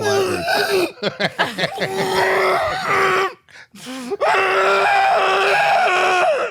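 A person screams loudly and close, imitating a scream underwater, with several choppy bursts, a short pause, then a long sustained strained howl.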